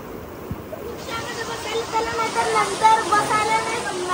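Swollen floodwater rushes after heavy rain in Vrindavan, a broad, steady roar of flowing water that builds slightly, with voices talking over it.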